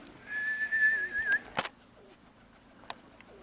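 Pigeons coo softly nearby in summer heat while a thin whistling tone wavers through the first second, then a single sharp click stands out. No one speaks.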